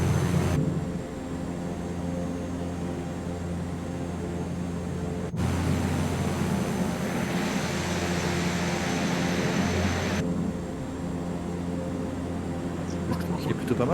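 Aircraft engine drone in Microsoft Flight Simulator 2024: a steady, sustained hum with tonal layers that holds through the whole stretch, shifting in level partway through, while people talk over it.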